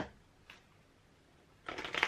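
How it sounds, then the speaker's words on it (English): Soft, worn playing cards being shuffled, a faint riffle early on and then a louder, rustling burst of shuffling near the end, with no talking. "They are very soft, so I don't know how well I can shuffle."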